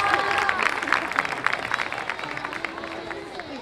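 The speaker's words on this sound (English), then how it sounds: "Let's give it up a round of applause for our fire and ice" An audience at a homecoming science carnival applauds the fire and ice group, giving a steady patter of clapping with murmuring voices mixed in, fading slightly toward the end.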